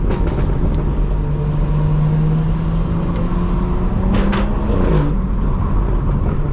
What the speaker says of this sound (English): let me put the windows down so y'all hear it. This car sounds nuts.